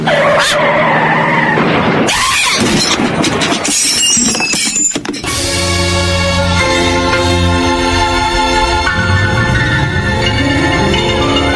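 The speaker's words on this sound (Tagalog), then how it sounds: "Ay, parang babangga sa amin ang sasakyan!" A car skids loudly on the road just before a crash, with a harsh screech and tire noise that build and stay prominent over the whole stretch, with no speech.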